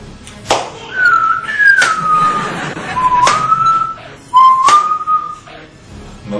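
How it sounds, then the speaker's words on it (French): Someone whistles a wandering tune in a few short phrases with brief pauses, over sharp percussive thumps and light background noise. "Donc pour se consoler, il sifflotait"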